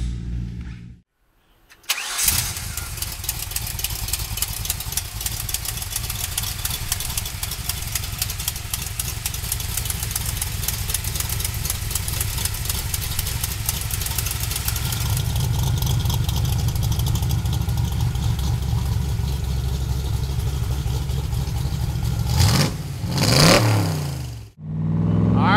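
A Factory Five Shelby Cobra replica engine cranks over and catches after a short pause, then settles into a steady, loud running idle that swells into revving near the end before cutting off.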